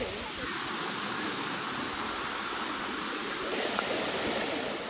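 Sticky Waterfall in Thailand flows as a steady, dense rush of water that holds an even, loud level throughout, with no voices heard.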